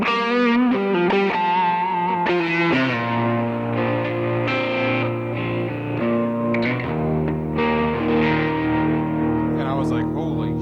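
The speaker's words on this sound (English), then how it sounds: "I hit that hall reverb where it's like in stereo and it's really wide and expansive." Electric guitar played through a Yamaha THR10C amp set to a wide stereo hall reverb, on a 2012 Les Paul-style guitar, ringing sustained chords and melodic notes that bloom and linger, loud and steady without talk.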